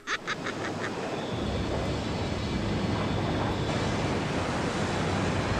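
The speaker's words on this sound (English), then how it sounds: "It's a tidal wave! A big one!" A tidal wave crashes in an animated show, a loud broad continuous roar of surging water that builds after a few short honk-like blasts at the start, with no talking.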